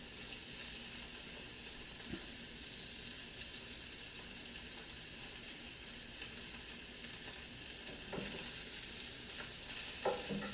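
A burger patty frying in a pan gives a steady, close sizzle throughout, with a few faint scrapes and clicks and a slightly louder crackle near the end.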